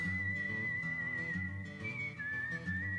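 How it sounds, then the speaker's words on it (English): A single clear, melodic whistle holds long notes over a low musical backing, western in flavor, steady and fairly loud. "I love that Western whistling sound"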